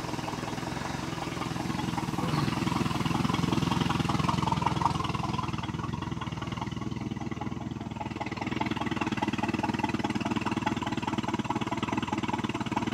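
A 1973 Larson boat's Mercruiser 120hp engine idles after a cold start, a steady, loud, continuous mechanical rumble with fine rapid firing pulses holding an even level throughout, with no talking over it.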